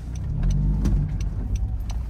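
Honda CR-Z driving on the road, a steady low engine and road hum heard from inside the car with a slight swell midway, brief and continuous, with no talk.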